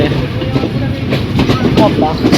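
The Padma Express pulls into a station stop with loud, close rumbling and a faint clickety-clack of wheels under a steady roar, while a voice talks over it.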